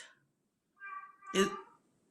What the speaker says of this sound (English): Leave my baby alone. Y'all hear her?